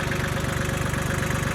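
A Kubota tractor engine runs steadily while spreading lime on a rural property, a loud close idle-like throb with a fast regular pulse and no talk.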